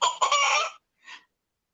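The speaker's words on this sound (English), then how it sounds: "there was one time I recorded one of my chickens clucking." A chicken clucking nearby, one longer run of clucks followed by a short single cluck after a pause, loud and clear against silence.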